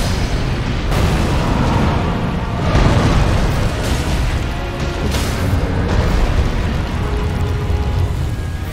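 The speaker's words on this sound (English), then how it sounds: "I don't want him to be near those things when they explode" Explosions in Elden Ring, a fire giant boss fight: a dense, sustained roar of booming blasts with stronger bursts around three and five seconds, loud and continuous with no pauses.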